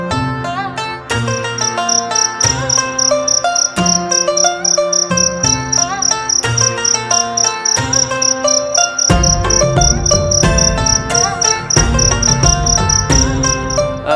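Crickets chirp in a rapid, steady pulsing rhythm that stays even throughout, riding over louder continuous music with bass and chords.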